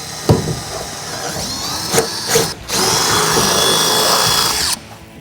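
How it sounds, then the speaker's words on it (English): A power drill cuts a 5/8-inch hole in the bed of a 2016-2021 Toyota Tacoma, with a few short bursts before a steady whirring run that stops abruptly, close up. "I'll start with a pilot hole, and then I will drill a 5/8 hole."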